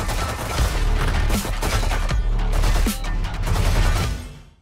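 Oni Frenzy weapon in a first-person shooter firing continuous rapid bursts, loud and close, with dense automatic gunfire running almost the whole time before cutting off at the end.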